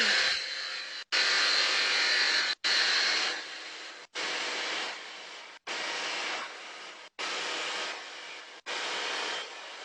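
Factory machine producing threaded pipe, a loud continuous grinding whir repeating in about seven cycles, each cut off by a brief silent gap before starting again.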